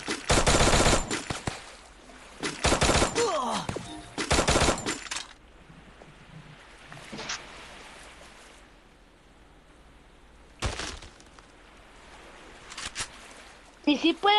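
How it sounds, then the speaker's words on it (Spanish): Bursts of automatic video game gunfire crack loudly at the start, then fade to near quiet before a few more bursts come near the end. "Disparo."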